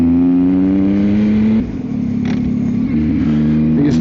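Yamaha XSR900 motorcycle fitted with a Kelpie exhaust, its engine droning loud and steady at close range, pitch dropping as it eases off then climbing again in a gentle rev.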